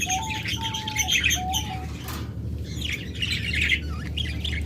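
A pair of caged Japanese lovebirds chirp and squawk in short, sharp bursts, with several quick calls in a row, a brief pause, and then another flurry of close, busy chatter.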